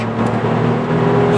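Car accelerating on the Nürburgring race track, a steady loud engine drone with a sustained low tone that holds throughout, close to the car.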